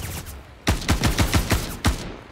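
Gunfire in Star Citizen during an org battle raid on a junkyard: a rapid string of about seven loud, sharp shots in quick succession, close and punchy, with a brief pause before the last shot.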